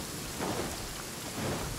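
Steady rain in the game Genshin Impact, a dense continuous hiss with low rumbling swells, moderately loud and alone.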